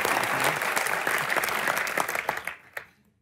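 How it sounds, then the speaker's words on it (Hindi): A studio audience on the Indian comedy talk show Comedy Nights With Kapil claps in a loud, dense burst that holds steady, then tapers and dies away within about three seconds. "जोरदार तालियां एक बार"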